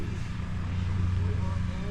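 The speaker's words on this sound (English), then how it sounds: "Oh, some nice choppers." RC model helicopters fly at a model aircraft event at Hodges, giving a steady low rotor drone with a faint engine whine throughout.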